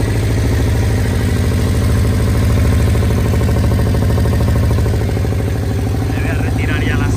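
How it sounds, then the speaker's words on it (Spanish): A Moto Guzzi GTS 400 motorcycle engine idles loudly and evenly up close, a steady throbbing beat holding without change. "confío que arranque a la primera. Y además mantiene ralentí perfecto"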